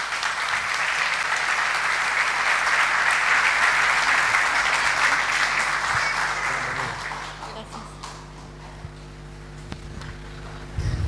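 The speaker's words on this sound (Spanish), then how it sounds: "un aplauso para la hermana" Audience applauding for a sister at a church question-and-answer gathering, steady dense clapping that fades out after about seven seconds, leaving a quieter room with low hum.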